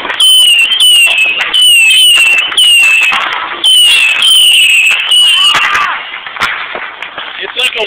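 Fourth of July fireworks explode close by in a rapid string of whistling rockets and sharp cracking bursts. The sound is loud, then trails off into scattered pops, with voices faintly present.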